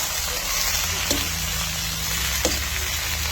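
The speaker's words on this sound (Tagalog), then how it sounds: "Stir fry lang natin." Kangkong leaves and fried tofu sizzle steadily as they are stir-fried in a hot pan, with an even, close frying hiss and a couple of faint clinks from stirring.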